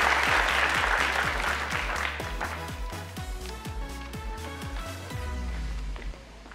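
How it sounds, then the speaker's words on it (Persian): Studio audience applause on the Afghan Family Feud game show Ro Dar Ro, clapping that fades gradually as a pulsing, rhythmic musical sting with deep bass thumps plays beneath and carries on after the clapping thins. "به افتخار ممتاز کف محکم بزنین"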